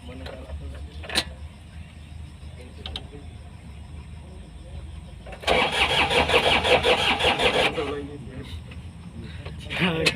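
An excavator's diesel engine at a heavy-equipment operator training site in Makassar cranks and starts, a loud rough roar of about two seconds that settles back, with people talking nearby before and after.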